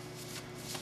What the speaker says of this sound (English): Inside the envelope here, there's some pieces of paper.